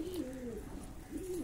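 Pigeons coo while gathering at scattered grain in cold January weather: two close, throaty rolling coos, the second starting just after the first fades, over faint background hiss with no speech.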